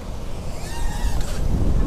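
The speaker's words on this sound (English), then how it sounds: "This is windy." Gusty wind buffeting a microphone outdoors, a steady low rumble that swells and grows stronger toward the end.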